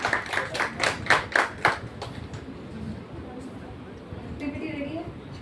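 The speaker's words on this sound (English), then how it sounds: "A warm round of applause." A short round of clapping at an international seminar on NEP 2020 at BBAU Lucknow: about half a dozen rhythmic, fairly close claps over two seconds, fading into room murmur and speech.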